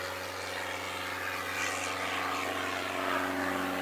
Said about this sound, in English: The plane, the plane.